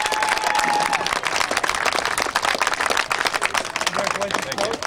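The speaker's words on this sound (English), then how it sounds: "Clap it up for him." A crowd at a school board meeting applauds the coaches, a loud dense roll of clapping and cheering that carries on steadily throughout, with voices mixed in.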